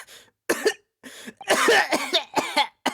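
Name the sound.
man coughing, from video game The Great Ace Attorney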